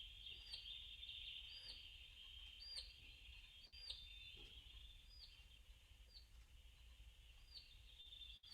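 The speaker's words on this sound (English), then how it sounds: "I have a bird." A bird repeats a short, high, chirping call roughly once a second, thin and fairly clear against a quiet, low background hum.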